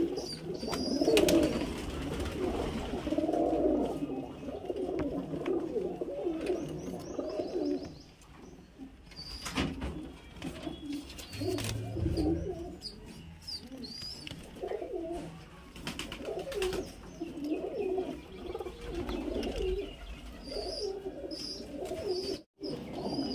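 Pigeons coo on and off over about twenty seconds, throaty and near, with scattered chirps mixed in, among green knot pigeons, Murshidabadi Giribaz and Madrasi birds kept for flying.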